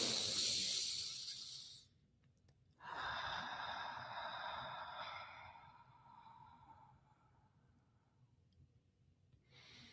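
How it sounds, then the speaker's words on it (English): Two slow, deep breaths during a guided breathing exercise: a long airy inhale, a short pause, then a drawn-out breathy exhale that fades into quiet room tone. "let's breathe together"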